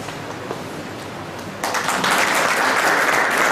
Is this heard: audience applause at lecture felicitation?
yes